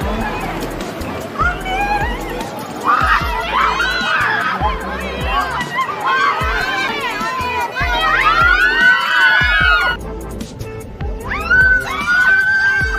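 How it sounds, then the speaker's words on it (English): A large crowd of female fans screams at an airport, with shrill, high-pitched cries rising and overlapping in waves over a constant roar of loud, near crowd noise for the whole stretch. "They are going crazy for Sana, screaming her name to the fullest."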